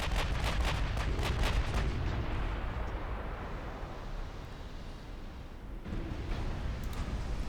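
Heavy naval guns in a dreadnought-era warship game fire in a rapid string of booming blasts at an enemy ship, followed by a long rumbling roll of sea and gunfire ambience, loud and dense throughout.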